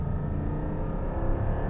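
Porsche 718 with PDK gearbox and 4.0-litre six-cylinder engine accelerating hard, a steady loud engine roar close by with no talk.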